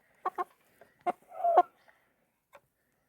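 A broiler hen clucks while being weighed by hand on a small farm, giving a few short, close clucks and one longer drawn-out call among quiet pauses.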